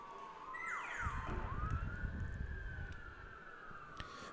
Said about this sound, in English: Some of the sounds of Hartford in the backdrop, the sirens.